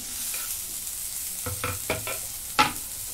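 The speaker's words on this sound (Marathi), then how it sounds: "आता ह्याच्यामध्ये चिरून घेतलेले 2 छोटे टोमॅटो टाकून घेते." Chopped tomatoes hit hot oil in a pan for paneer masala, giving a steady sizzle broken by several sharp scraping stirs and a louder clack near the end, close and with no talk.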